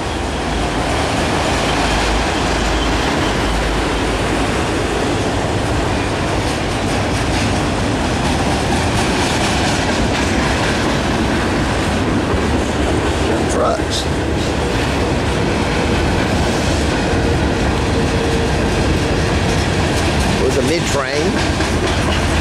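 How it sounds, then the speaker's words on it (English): Norfolk Southern manifest freight train with AC44 and SD70ACu locomotives and an AC44 helper near the end, loaded cars rolling past close and loud with continuous rumble and wheel clatter, a few faint squeals. "Must be a pretty heavy train then."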